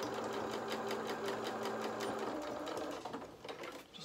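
A sewing machine runs steadily at close range, stitching fabric for a small toy jacket. It gives a fast, even mechanical whir with a regular needle pulse, and the rhythm loosens and stutters near the end.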